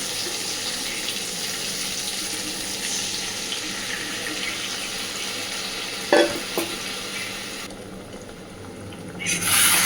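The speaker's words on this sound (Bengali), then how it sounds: "তো এইবার খুব ভালোভাবে পাতাটাকে ভাজতে দিতে হবে" Arum leaf paste fries in a pan with a steady, close hiss and crackle, broken near the end by a few sharp clinks of stirring and a brief drop in level.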